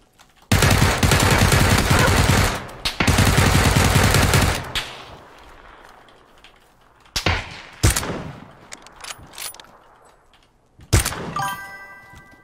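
Gunfire in the video game PUBG, two long loud bursts of rapid automatic shots, then scattered single shots with quieter gaps and a few metallic pings near the end.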